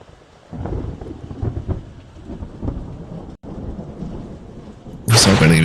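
A poison rain spell in the fantasy game Queen's Wish 2 lands as a rumbling storm of rain and thunder-like crashes, steady and loud, swelling into a bright, harsh burst at the end.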